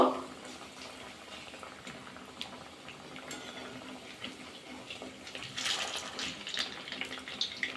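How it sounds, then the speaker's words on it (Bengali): Battered luchi, a Bengali fried bread dipped in batter, sizzles and bubbles in hot oil in a home kitchen for a cooking snack, giving a steady close frying hiss that swells louder near the end, with no talk over it. "ব্যাটার মধ্যে চুবিয়ে নিয়েছি এবার তেলে দিয়ে দেবো"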